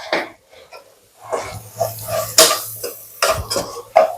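Metal spoon stirring Chettinad chicken curry in a pot, with irregular clinks and scrapes against the pot's side among soft shuffling sounds, close and moderately quiet.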